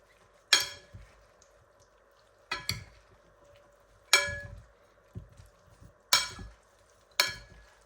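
Instant noodles being crushed and broken apart by hand and spoon for a spicy fermented-fish-sauce noodle salad: five sharp crackling crunches spaced about two seconds apart, each trailing off quickly, close up with no talking.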